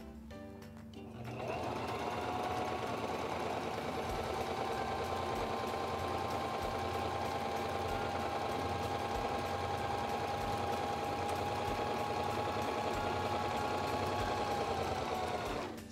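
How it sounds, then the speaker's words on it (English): A SINGER 2273 Esteem II sewing machine stitches a buttonhole, starting after a brief pause and then running in one long, even, close mechanical hum that stops at the end. "I'm going to lower the presser foot and begin sewing."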